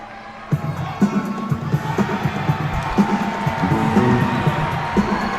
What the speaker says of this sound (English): Listen to this crowd, Koyon.